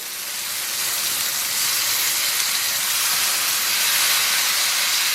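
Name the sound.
squid stir-frying in a wok with chili sauce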